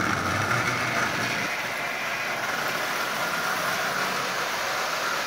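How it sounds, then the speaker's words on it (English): An old Marx 1666 Allstate toy train locomotive runs on track at half power from a 100-watt transformer, pulling eight cars. It makes a steady, close mechanical whir and rumble that continues unbroken throughout, with no voices. "this old locomotive and Allstate set is running just absolutely perfectly"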